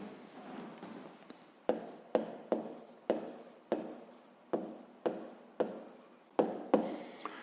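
Pen or pencil writing down the answer to a fifth-grade maths exercise on paper: a soft scratchy scrawl, then a run of sharp, evenly spaced taps and strokes, close and quiet, with no talking.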